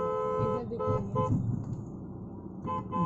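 A vehicle horn honks in a few quick bursts at the start and sounds again briefly at the end, close and fairly loud over traffic rumble.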